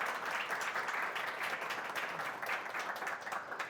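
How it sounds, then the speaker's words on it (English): An audience at a Kubernetes tech conference talk breaks into steady, dense applause for the presenter, a full wash of clapping that carries on evenly throughout. "So, round of applause for Maram,"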